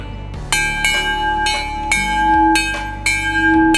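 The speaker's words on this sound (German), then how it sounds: "Das ist eigentlich keine richtige Glocke, sondern wenn man genau hinschaut, das ist eine abgeschnittene Gasflasche." Improvised bell made from a cut-off gas cylinder, struck like a cowbell: six sharp metallic clangs at roughly even half-second intervals, each ringing with a bright, sustained, slightly harsh tone that overlaps the next.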